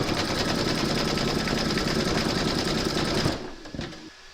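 An embroidery machine stitches an in-the-hoop bunny slipper design, a fast, loud, rhythmic needle chatter that runs steadily, then halts with a few clicks and thumps.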